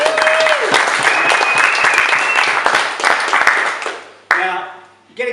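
Awards-night audience for the 28 Day Flat Belly Challenge finalists breaks into loud, dense applause that carries steadily, then fades out near the end as a voice starts to speak.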